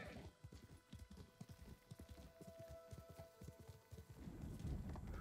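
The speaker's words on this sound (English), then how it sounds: "Accidentally launched my horse off the cliff again." Horse hooves pounding at a gallop in the samurai action game Ghost of Tsushima, a fast steady clip-clop rhythm that runs the whole stretch, close and fairly loud, with a faint tonal layer beneath.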